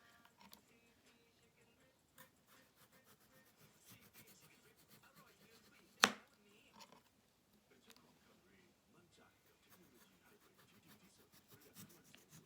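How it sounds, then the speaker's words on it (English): A knife carving a carrot into a flower shape, with quiet intermittent scraping and rubbing strokes and one sharp snap partway through, close and soft. "I'm using the knife here. You have to be patient and cut this out"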